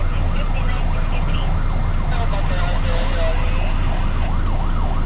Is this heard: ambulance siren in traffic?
yes